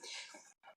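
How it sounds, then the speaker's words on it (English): A short, sharp breathy catch, then a brief pause and a quick second gulp of breath, close to the mic with no talking. "That was a hiccup"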